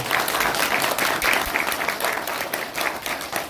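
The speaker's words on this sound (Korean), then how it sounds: "박수 세게 쳐주셔도 됩니다" Audience applause at a Korean Democratic Party political rally, a dense, steady wash of many hands clapping loudly and continuously throughout.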